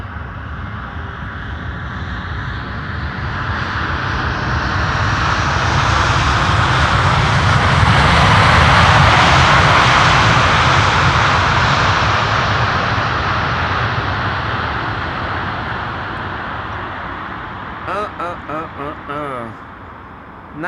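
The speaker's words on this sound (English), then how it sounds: "will they use their reversers and will they get loud?" An Aeromexico jet lands at Amsterdam Schiphol and applies reverse thrust, a broad roar that swells loud to a peak midway and then slowly fades. Brief voices break in near the end.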